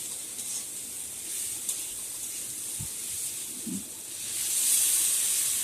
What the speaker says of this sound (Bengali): জল দেওয়া হলো